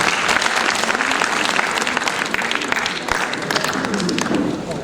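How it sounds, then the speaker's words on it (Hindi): Sustained, dense applause from a large audience at a Hindi literary award ceremony, loud and close, holding steady for the full stretch with no break or speech. "एक बार तालियों के साथ"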